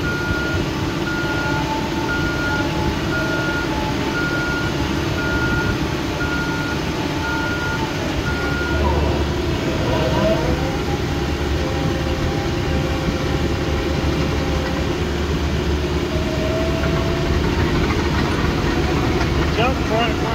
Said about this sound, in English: Dump truck running over and loaded, it sure will smash it.